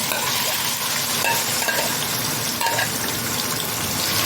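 Liver fries in hot oil in a pan, a steady loud sizzle and crackle filling the whole stretch with a few small sputters on top.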